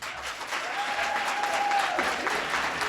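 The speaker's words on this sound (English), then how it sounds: "A giant round of applause for those mayoral candidates." Audience applause after a mayoral candidates' debate in Orem, a steady dense clapping from a crowd that fills the whole stretch at even loudness.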